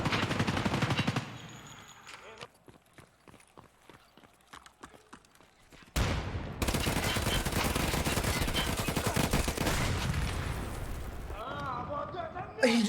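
Automatic gunfire in the shooter game Escape from Tarkov Arena, a loud burst at the start, sparse individual shots, then a long dense stretch of rapid fire close by, with game noise throughout.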